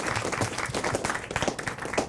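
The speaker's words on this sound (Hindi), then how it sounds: "सबसे पहले तालियों के साथ स्वागत" An audience at a National Bravery Awards ceremony in India claps without a break, giving a dense, steady patter of many hands welcoming the children.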